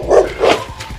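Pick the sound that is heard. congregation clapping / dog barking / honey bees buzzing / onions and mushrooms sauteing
dog barking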